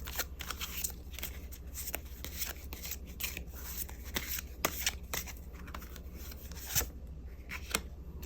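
Tarot cards shuffled and drawn up close: a run of soft papery slides, riffles and rubs with sharper flicks and taps at irregular moments, fairly quiet, with no voice over it.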